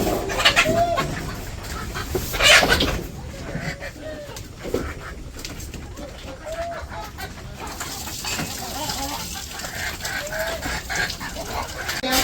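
Farmyard chickens, with a rooster among them, cluck at feeding time during a village morning, short clucks scattered across the clip over a low outdoor background and a few background voices.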